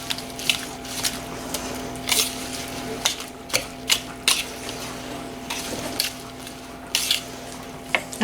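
Blueberry pie batter is stirred in a bowl with steady, moderately close rhythmic taps and scrapes of a utensil against the bowl, under a faint constant hum.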